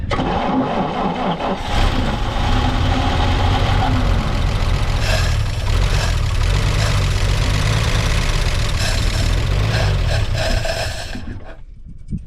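Old six-cylinder engine, decades of sludge in it, cranking and catching before running as a loud, even, rumbling idle for about nine seconds, then shutting off and falling quiet.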